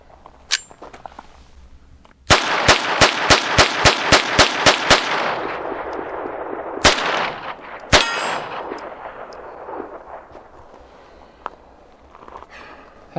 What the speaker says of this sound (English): next let's try 12 rounds of CCI Stinger